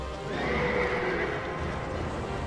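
A horse enemy from Dark Souls 2 neighs in a long, loud whinny that rises and falls over about two seconds, with faint hoof clatter and game ambience beneath and no speech.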